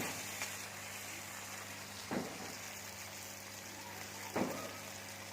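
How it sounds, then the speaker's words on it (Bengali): Spices fry lightly in a pan for egg curry, giving a soft, steady sizzle in the background. Two brief knocks of a spoon against the pan stand out about two seconds apart. "একটু হালকা করে আমি ভেজে নেব, কারণ মশলাগুলো আমার সব ভাজা আগেই হয়ে গেছে।"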